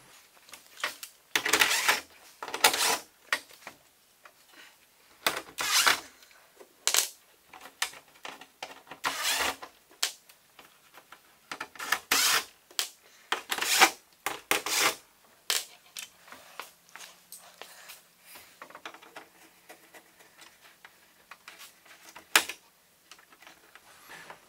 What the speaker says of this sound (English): You do that by removing the 7 bolts around the outside, and then there's one plastic screw you got to take off.